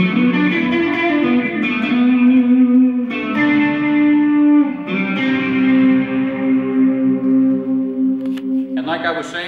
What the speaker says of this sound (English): I could stack chorus on top.